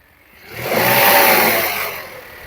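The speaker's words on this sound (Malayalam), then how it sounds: "അത്യാവശ്യം കാല് കൊടുക്കുന്ന സമയത്ത് എൻജിൻ്റെ ഒരു സൗണ്ട് ഇതാണ്" A 2025 Maruti Suzuki Dzire's three-cylinder engine revs up, swelling to a loud buzzing roar for about a second, then winds back down to idle.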